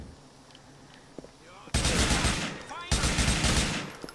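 Dockside gunfight in the video game GTA IV, with quiet game ambience suddenly broken by two long loud bursts of automatic gunfire, dense and continuous, close up.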